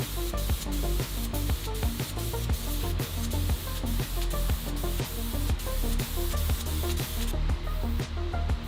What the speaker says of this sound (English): try the little baby airbrush for some supervised ombre at the end